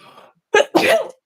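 A single sharp sneeze bursts out after a faint breathy lead-in, loud and close.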